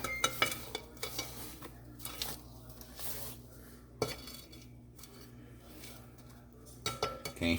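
A spatula scraping down the sides of a mixing bowl of orange pound cake batter, repeated soft scraping strokes and light knocks against the bowl, close and steady with occasional sharper taps.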